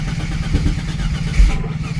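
A car engine with a plug-and-play ECU and old, worn spark plugs runs roughly with an occasional misfire, a steady low rumble with uneven pulses and a bump near the end.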